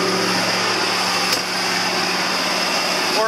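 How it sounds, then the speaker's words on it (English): A tractor pulls a running New Holland baler, giving a loud, continuous mechanical drone with steady whining machinery tones, heard up close, plus a brief sharp knock partway through. "I jumped out of a moving tractor and onto a moving baler. I just love that noise."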